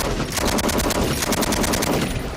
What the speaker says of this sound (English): We've got some small arms fire coming from the rear.